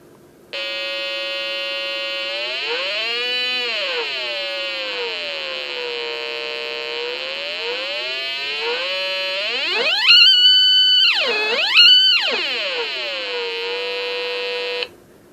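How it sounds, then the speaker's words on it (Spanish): Electronic tone from a small loudspeaker driven by a CEKIT lab audio generator circuit, its pitch sweeping up and down as a potentiometer is turned, a steady buzzy tone rich in harmonics with no talking. "Voy a llegar a variar este sonido mientras voy moviendo el potenciómetro"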